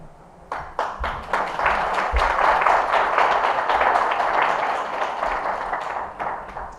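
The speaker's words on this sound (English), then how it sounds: "I would like to applaud everyone on the panel and applaud you, Cheryl" An audience applauds a panel at a movie sneak preview event. Dense, steady clapping from a sizable crowd starts after a few scattered claps, swells quickly, holds for several seconds, then thins out toward the end.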